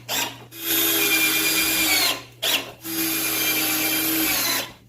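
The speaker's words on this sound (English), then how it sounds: "So we got holes drilled about once every 12 inches all the way around." A power drill bores holes into the wooden frame of a large DIY aquarium stand, with two long, steady whining runs of the motor broken by a short pause and a brief burst between them.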